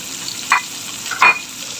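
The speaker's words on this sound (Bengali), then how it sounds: "মাছ ফ্রাইটা আপনারা এভাবে করবেন" Fish frying in a pan, a constant soft sizzle with two brief louder bursts of spattering, no voices.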